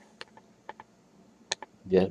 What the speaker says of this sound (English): This is the keyboard. Yep, I have the keyboard.